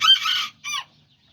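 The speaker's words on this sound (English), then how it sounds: "Little roosters and chickens and everything." An Araucana or Serama chicken squawks twice in quick succession, a longer call followed by a shorter one, fairly close with no other sounds around it.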